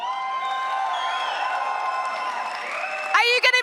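A large crowd at a PUBG Mobile esports finals in Berlin applauds and cheers steadily, with a few sharper shouts and whoops rising near the end.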